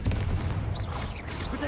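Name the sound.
Confringo blasting spell cast in Hogwarts Legacy video game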